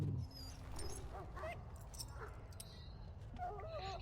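A dog in the Dragon Age: Origins video game whimpers and yips in thin, high whines, set against low game ambience and scattered effects, with a voice speaking briefly over it.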